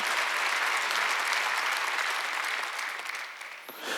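A congregation at a Wednesday worship service at a Korean church breaks into applause, a dense wash of clapping that holds steady and then thins out toward the end.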